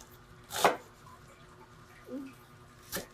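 A knife chopping cabbage on a board: two sharp, separate chops about two seconds apart, with a soft scrape between them and a quiet background.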